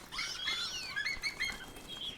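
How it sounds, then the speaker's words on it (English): Shrill, shrieking birds chirp and flap their wings in a video game, a burst of sharp, high calls swooping and overlapping over about two seconds, fairly close, with no talking. "now I see birds. And they're all shrieky and mean"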